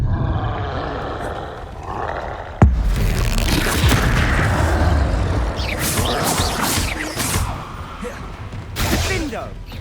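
A Confringo spell explosion in Hogwarts Legacy combat: a sudden sharp blast followed by loud roaring, rumbling battle noise and further crashing impacts, with voices heard amid the din.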